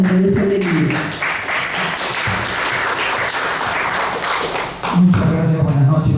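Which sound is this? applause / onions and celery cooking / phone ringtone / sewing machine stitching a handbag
applause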